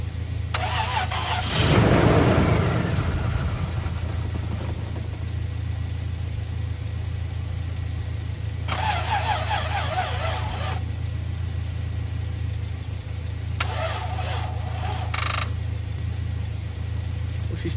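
A high-mileage Toyota Tacoma engine cranks and catches after a jump start, then settles into a rough, steady idle with a low rumble, while a few brief high whines and clatters rise over it.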